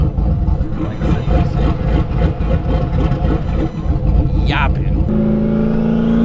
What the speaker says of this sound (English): One thing I do really like about this car is the chop.